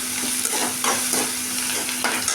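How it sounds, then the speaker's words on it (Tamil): A tomato and onion paste with garlic sautés in a pan, a close continuous sizzle broken by repeated stirring scrapes, with no one speaking. "இப்போ தக்காளி வெங்காயம் நல்லா வணங்கிடுச்சுங்க"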